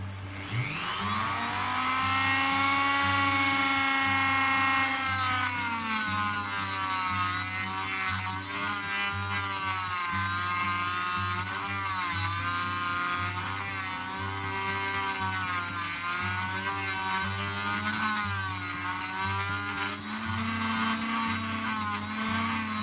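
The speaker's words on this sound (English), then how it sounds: "Now the way I'm doing it is with a Dremel tool down here" A Dremel rotary tool whines steadily while cutting the braid of a coax cable, a high continuous buzz that shifts slightly in pitch under load and carries on alone for over twenty seconds.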